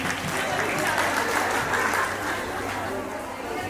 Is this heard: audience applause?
yes